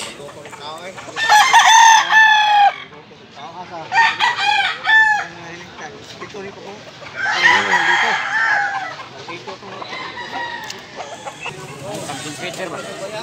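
Gamefowl roosters of a pumpkin sweater bloodline crow loudly and close by, several long drawn-out calls in a row with clucking between them and a faint voice in the background.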